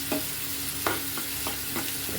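Onion, tomato, ginger and garlic sautéing for bread masala give a steady sizzle in a pan, broken by several sharp scraping stirs of a spoon at irregular intervals.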